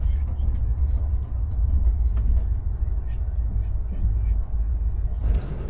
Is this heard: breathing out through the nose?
no